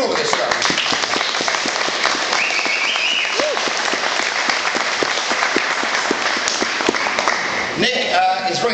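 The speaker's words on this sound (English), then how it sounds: "Let's have a round of applause for Nick Plum for doing all of this stuff." An audience at a talk breaks into a sustained round of applause, dense clapping filling the room, with a voice briefly heard near the end.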